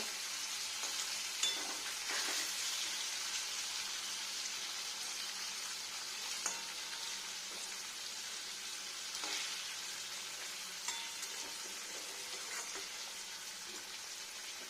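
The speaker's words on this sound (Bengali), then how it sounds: "কত সুন্দর ঘিয়ের মতো ফুটছে না পনিরটা" Steady, close sizzling of paneer frying in hot oil, with scattered crackles and pops over a continuous hiss, no voices.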